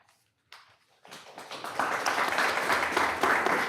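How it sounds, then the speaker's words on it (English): A few scattered claps start the applause at a community college district board of trustees meeting, then it quickly builds into steady, moderately loud clapping from the room. "So I'd like to applaud her for that."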